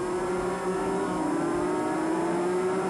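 250cc racing motorcycles scream around Oran Park in a 1985 road race, a continuous high-pitched engine wail that rises and falls slightly as they run close together, with no voices.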